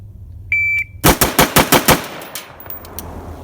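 A rifle fitted with a Geisley trigger fires a rapid string of about six close, loud shots at a target, preceded by two electronic timer beeps, with the reports echoing briefly afterward.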